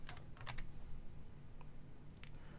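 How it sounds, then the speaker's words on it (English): Keys on a computer keyboard clack in short scattered bursts, a few quick taps, then a pause and another small cluster, fairly close and quiet. "What is up with my keyboard?"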